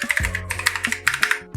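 A burst of quick, close keystrokes on a computer keyboard as a Linux terminal command is typed, crisp irregular clicks running steadily for a moment with no talk.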